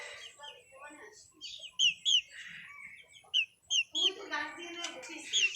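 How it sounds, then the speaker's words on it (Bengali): A rooster clucks in short, sharp bursts at close range in a poultry area, mixed with higher chirps from other birds, while someone speaks quietly nearby. "এইটা একটা মোরগ।"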